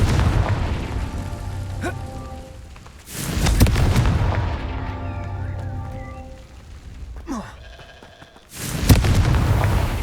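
A Confringo fire spell blasts off in Hogwarts Legacy gameplay with a heavy booming burst, followed by later explosive impacts and rumbling fire and effects in between.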